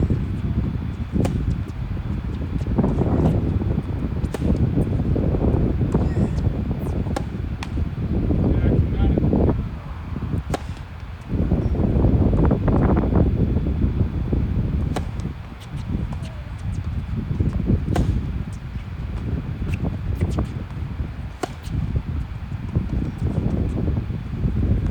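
Strong gusty wind sweeps across an outdoor tennis court, a loud rumbling buffet that rises and falls throughout, with someone talking over it.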